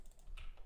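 Several quick keystrokes on a computer keyboard, typing a few short bullet points with soft, close clicks in a brief burst.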